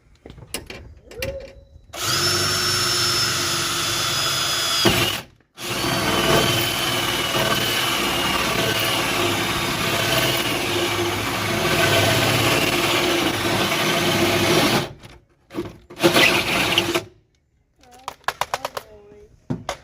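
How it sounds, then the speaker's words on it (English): A 1-inch hole saw drilling through the door metal of a 1973–1978 Mercury Grand Marquis Brougham, a loud close whirring grind in two long bursts separated by a short stop, then brief tool clicks and rustling. "So get yourself a 1-inch hole saw, get it right in the dimple"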